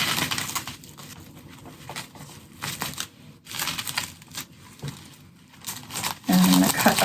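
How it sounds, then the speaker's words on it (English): Bubble wrap is handled close by, giving uneven crinkling and rustling bursts with brief quiet gaps, and a short tonal sound near the end. "So I've got 4 pieces of bubble wrap."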